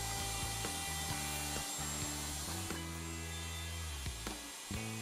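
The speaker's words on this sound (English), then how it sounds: "The socket board is routed by moving in and out of the template openings." A router cuts box joint sockets in a wooden board, moving in and out of the openings of a Leigh B975 jig template, with a steady loud whine and repeated pitch changes from each pass.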